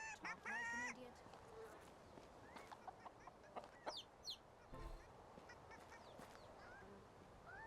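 Chickens and a rooster cluck and squawk in a medieval farming game, a loud burst of calls at the start, then scattered softer clucks over a busy background.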